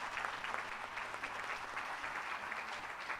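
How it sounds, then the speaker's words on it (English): A seated audience claps at a Jamaican teachers' awards ceremony, a steady, even wash of applause lasting the whole stretch, moderately distant and soft with no voices over it. "give her another round of applause"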